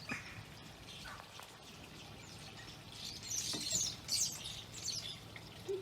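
Small garden birds chirp in faint, high bursts over a low background hum, the calls thickening toward the end of the stretch while staying fairly distant.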